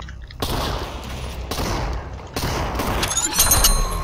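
Magnum gunshots in the virtual reality game Population: One crack out in a few sharp, loud blasts spaced about a second apart, with broadband bursts and trailing echoes.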